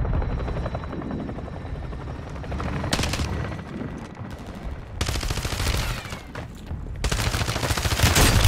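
Heavy automatic gunfire from Call of Duty Plunder pours out in long loud bursts, backed by a constant helicopter rotor drone and scattered booms, with no voices over it.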